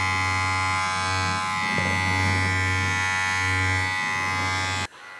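Beardo electric beard trimmer running steadily, a constant close buzzing hum with a stable pitch for about five seconds before it cuts off.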